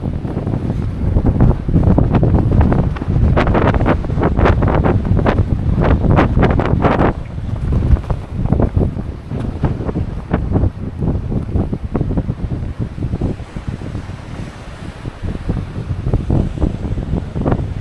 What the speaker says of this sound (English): Mega windy.